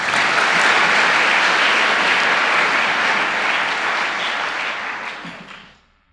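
A church congregation applauds loudly and steadily, a dense wash of clapping that holds for several seconds before fading out at the end.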